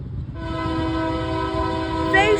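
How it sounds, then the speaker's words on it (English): A Union Pacific freight train led by a Phase 2 locomotive sounds its horn while passing close by, a loud sustained multi-tone blast over rumbling wheels and engine noise. "That's a kind of rare locomotive right there."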